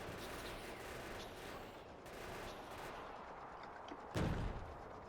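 Tank cannon shells firing in Factorio, a steady dense clatter of distant combat with one loud, deep boom near the end standing out above the din.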